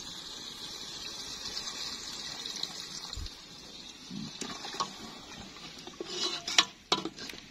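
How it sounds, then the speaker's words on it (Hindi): Water poured into a pot of beef for village-style degi korma, heard faintly as soft sloshing and metal pot clatter that build into louder splashes toward the end. "अब इसमें पानी डाल के इसको हम गलाएंगे, गोश्त को डाल दो पूरा।"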